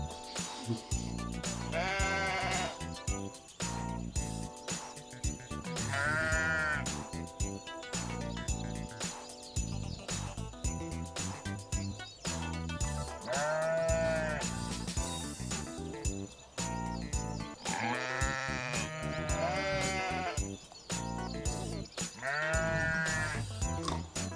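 Many sheep bleat again and again over a continuous backdrop, with repeated loud wavering calls overlapping through a busy, steady mix that carries faint jingling.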